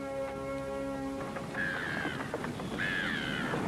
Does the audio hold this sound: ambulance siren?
no